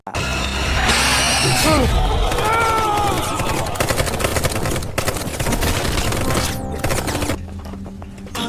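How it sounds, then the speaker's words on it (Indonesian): Gunfire in a film scene on a remote island overrun by a giant snake: bursts of shots over a dense, loud action mix with cries and effects, tapering near the end. "Paul akhirnya berhasil menemukan lokasi Han dan langsung menembaknya saat itu juga"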